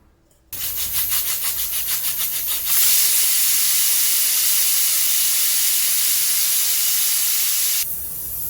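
Pressure cooker on a stove cooking mutton leg curry, first a pulsing whistle of bursts, then a loud continuous steam hiss that runs on before dropping away near the end.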